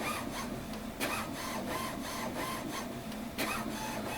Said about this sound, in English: print out a page for your registration code